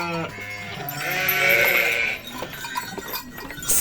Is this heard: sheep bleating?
yes